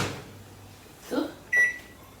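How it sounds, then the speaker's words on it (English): A microwave oven set on high, heating a lidded dish of Anglo-Indian pepperwater, gives a soft thump and a clear electronic beep, then a faint low hum. "I'm going to cover this with a lid and put it in the microwave."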